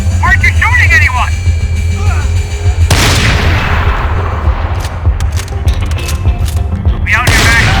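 Gunfire in the Max Payne 3 video game: repeated shots and a heavy boom crack through a busy battle mix, with shouting voices and other game sound over it.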